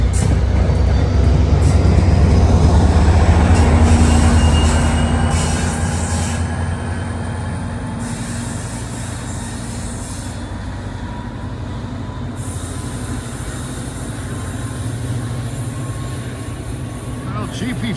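An EMD GP40PH-2B diesel locomotive on New Jersey Transit rumbles past loud and close. The heavy engine and wheel roar eases slightly after the first few seconds but stays steady and dominant throughout.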